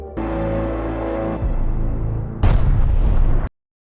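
A cinematic explosion as a woman blows herself up along with a virus in a film, heard as a loud sustained low rumble that shifts midway into a sharper, brighter blast before cutting off abruptly.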